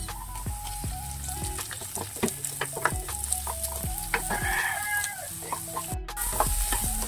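Chopped onions hit a hot pan and sizzle steadily, with scraping stirring strokes and chickens clucking loudly nearby throughout.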